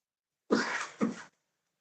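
A person coughs twice in quick succession, close and fairly loud, a harsh first burst followed by a shorter second one, then silence.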